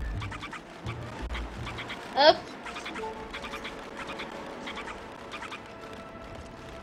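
Repeated chicken calls in the video game Onward, Space Chicken!, quacking or clucking in short bursts, come over a noisy background, with a brief shout cutting in partway through.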